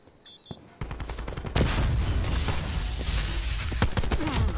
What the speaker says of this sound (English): Someone's shooting me to my right.